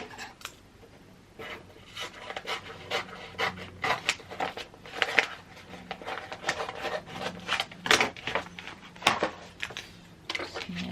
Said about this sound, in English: Stick it with my little squeegee thing.